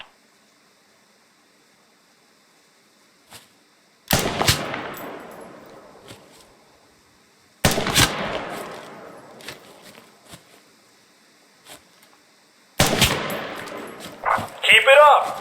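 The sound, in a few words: gunfire of rubber bullets in a training exercise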